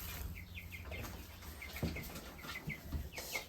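Chickens cluck and chirp on a farm in Wyoming, a string of short calls close by over steady outdoor background noise, with a few bumps and handling sounds.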